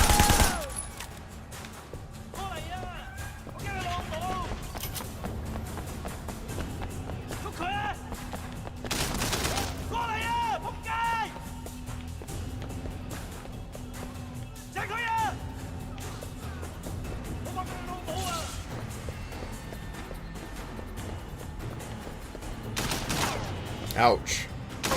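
Gunfire rings out in the open-world action game Sleeping Dogs, with scattered bursts of shots punctuating a busy mix of game sound and music, while people talk over the action at moderate volume.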